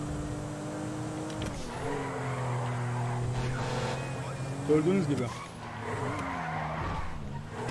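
Car drifting in GTA 5, tires skidding and squealing over a steady engine drone, with a sharp screech burst near the end while someone talks over it excitedly.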